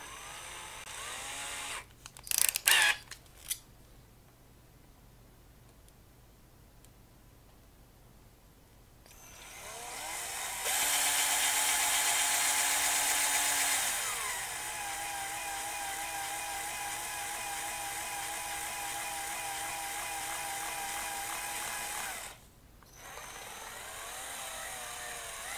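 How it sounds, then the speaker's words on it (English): A hand drill whirs in a long steady buzz while drilling a hole in a guitar amplifier build; it starts after some faint clatter, runs for several seconds, then cuts off. "And now I will use it for drilling."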